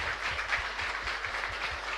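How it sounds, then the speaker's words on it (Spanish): Applause during a Catholic mass in Nuestra Señora de la Asunción chapel: a congregation claps steadily and continuously, a dense, even patter of many hands filling the room. "un fuerte aplauso entonces para el Señor"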